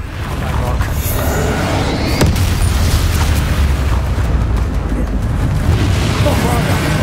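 Bombarda spell explosions in Hogwarts Legacy combat, loud booming blasts layered over a constant roar of game effects, with a sharp burst early on and no clear gaps.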